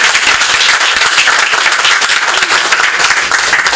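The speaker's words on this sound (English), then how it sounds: "everybody give yourselves a round of applause" Audience applause at a Haitian American community campaign event for Eric Adams, a dense, steady wash of many hands clapping close and loud throughout, with no talk over it.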